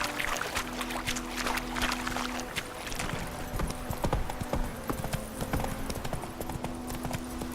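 In a video game, the horse Roach walks with steady clip-clopping hooves, a continuous near rhythm of hoof strikes over a rustling outdoor ambience, with no one talking.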